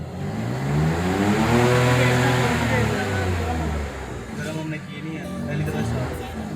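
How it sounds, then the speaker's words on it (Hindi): A Suzuki Swift Turbo RS, imported from Japan with water damage, starts after sitting with its engine off for a long time, then revs and runs rough and close, while people talk over the engine throughout. "जब से गाड़ी जापान से आई है it's the first time it got started"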